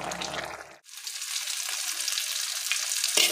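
Garden greens frying in oil with onion and green chilli give a loud, steady sizzle that starts after a brief hush and continues close up without pause.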